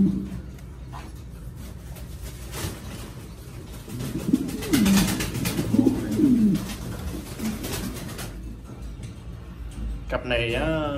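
Mondain pigeons, a breeding pair of large birds, coo in low, soft, rolling calls through the middle of the clip, close by, while someone talks over them.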